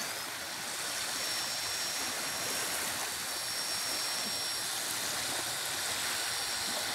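A Redcat Gen 8 RC crawler pushes through deep water at a Michigan beach harbor, giving a steady rushing, splashing wash that holds at an even level throughout.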